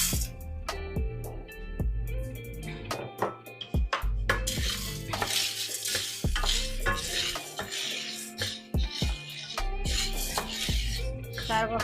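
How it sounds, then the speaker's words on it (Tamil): Cowpeas are dry-roasted in a pan and stirred, giving repeated close scraping, clinking and rattling from the utensil against the pan in an irregular, busy rhythm. "இப்போ கவுப்பி வறுப்போம்."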